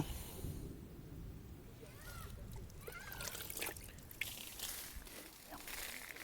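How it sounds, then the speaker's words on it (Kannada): Water poured onto plain bare ground in a yard, a soft trickling and splashing as it spreads and soaks in, faint and close, with some low background noise. "ಇದೀಗ ಮಾಮೂಲಿ ನೆಲಕ್ಕೆ ನೀರು ಹಾಕ್ತಾ ಇದ್ದೇನೆ ಆ ಕಡೆ ಹರಿದು ಹೋಯ್ತು"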